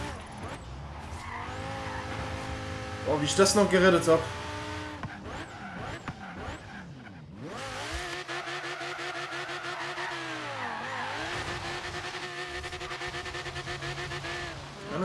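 A tuned car in the racing game Forza Horizon 3 revs hard with engine pitch rising and falling through gear shifts, a loud burst of tire squeal midway, and sustained high-speed engine drone; someone speaks briefly over it.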